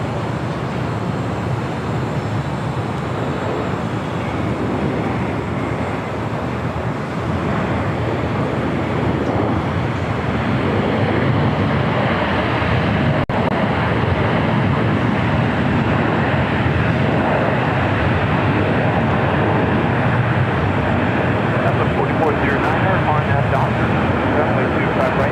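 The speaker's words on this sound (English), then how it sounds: "FedEx 767 pulling in to the FedEx." A FedEx Boeing 767 taxis at LAX, its engines a loud, steady broadband roar and rumble that persists unbroken, with voices speaking over the noise.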